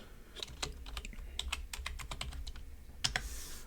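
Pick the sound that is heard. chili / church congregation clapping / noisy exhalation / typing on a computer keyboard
typing on a computer keyboard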